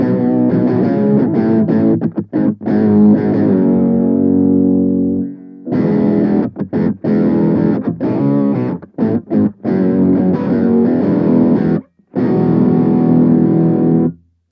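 Electric guitar through a Boss Katana Mini X amp on a crunch distortion setting with an octave effect, loud and close, with sustained chords and bursts of choppy, stopped strums separated by short silences.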